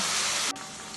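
Food browning in a pan hisses in a loud, steady sizzle that suddenly drops to a softer hiss halfway through.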